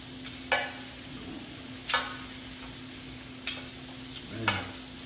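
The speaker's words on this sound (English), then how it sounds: "let them finish searing" Lamb chops sear in a pan, a soft steady sizzle broken by four sharp clicks or taps of a utensil, fairly quiet and without talk.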